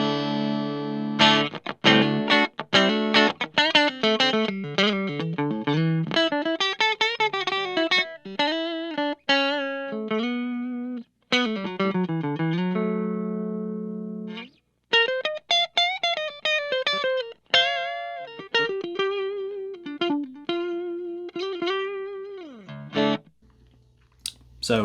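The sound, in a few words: electric guitar, neck single coil pickup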